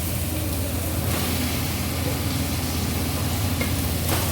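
Chicken and tomatoes sautéing in a pan for pepper chicken gravy, a steady loud sizzle with a dense hiss that barely changes throughout, close up and without talk.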